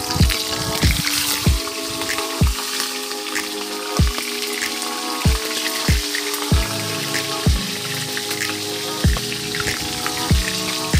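Fish frying in a pot of oil over an outdoor wood fire gives a steady bubbling sizzle, with sharp crackling pops from the fire or spattering oil landing every second or so.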